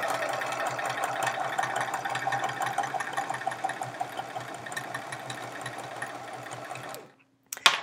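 A sewing machine stitches quilt chevrons in a fast, steady mechanical rattle of rapid needle strokes, running continuously and then stopping abruptly near the end, followed by a brief clack.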